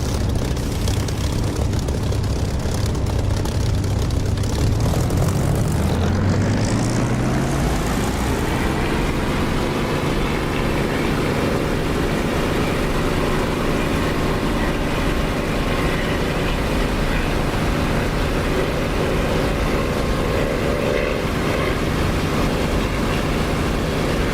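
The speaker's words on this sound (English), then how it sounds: "that's good for takeoff, so let's go, brake off" A propeller aircraft in the DCS flight simulator starts its takeoff roll, its engine droning loud and steady, with the pitch rising as power builds and the plane gathers speed, and no talk over it.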